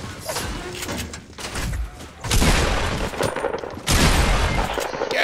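Rapid Fortnite gunfire cracks in dense bursts, loud and close, with heavier volleys around the two- and four-second marks and a gamer's voice faintly underneath.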